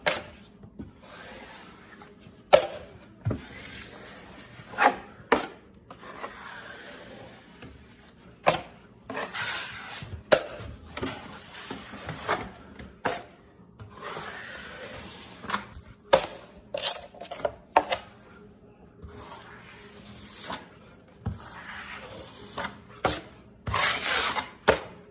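Utility knife scoring and cutting a sheetrock patch by hand, a series of sharp scraping cuts and knocks spread irregularly over a quiet background, close and fairly soft, with no talking.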